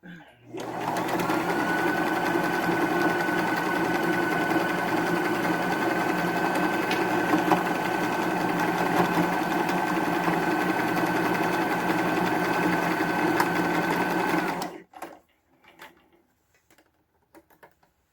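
A sewing machine zigzag-stitching denim jeans, a loud, steady, rapid mechanical whir running for about fourteen seconds close to the mic, then stopping abruptly and leaving a few faint handling clicks.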